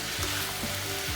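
Pork sizzles and spits in a frying pan for a sweet and sour dish, giving a loud, continuous frying hiss with a few soft stirring scrapes and no talking.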